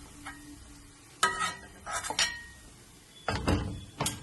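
Dates frying in oil for a lemon and dates pickle are stirred and scooped out, with a few bursts of scraping and clinking spoon strokes over a quiet sizzle.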